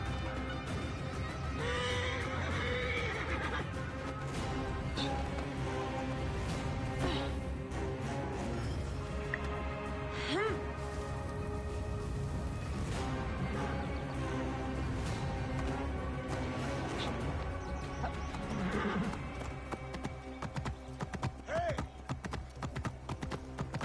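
A horse in Assassin's Creed Origins clip-clops steadily along, hooves pounding in a continuous rhythm, with occasional neighs and snorts rising above the trotting.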